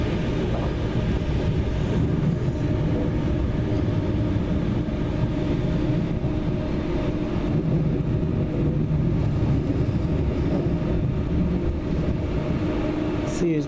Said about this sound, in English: We're just about to pull into London Euston.